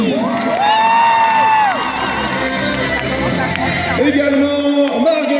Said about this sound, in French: On lâche pas les applaudissements pour Maloria Cassie.